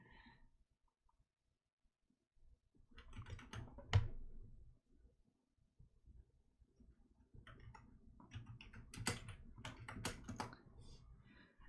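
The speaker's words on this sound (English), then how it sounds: "I'm like typing away over here because my keyboard is like all the way over" Typing on a computer keyboard set off to the side, bursts of quick clicking keystrokes with short pauses between, fairly close but soft, in a quiet room with no talking.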